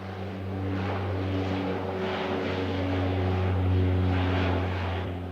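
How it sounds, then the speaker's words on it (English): Indonesian-designed propeller transport and surveillance plane droning steadily with a strong low engine hum and whirring harmonics, loud and continuous, swelling slightly as it passes. "Evidence of Indonesia's technical prowess is this locally designed transport and surveillance plane."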